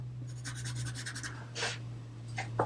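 Crayon strokes scratch across paper while drawing a cartoon villain's hair, several short rapid rubbing strokes close up over a steady low hum, with no talking.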